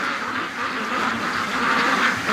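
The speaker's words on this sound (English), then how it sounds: "There's a bunch of ducks over by the pen, but the majority of them are over here right now." A flock of backyard ducks gathers near a deck and quacks together in a loud, overlapping chorus that continues without pause for a couple of seconds.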